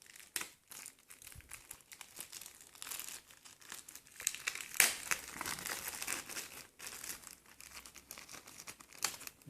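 Close crinkling and tearing of plastic wrapping as a Bandai sticker card pack is opened by hand, a steady run of crisp crackles with a few sharper rips, no talking.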